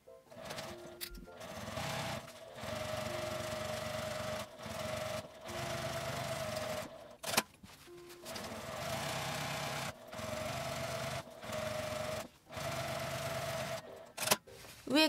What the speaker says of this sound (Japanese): アイロン線を縫います。